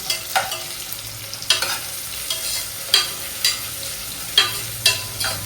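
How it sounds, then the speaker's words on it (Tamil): Onions sautéing in a pan for Tamil-style country chicken curry, stirred to golden brown, with a steady sizzle broken by about a dozen sharp scraping strokes of the spoon, close and clear, with no voices. "இது நல்லா ஒரு கோல்டன் ப்ரௌன் வர வதக்கிக்கலாம்"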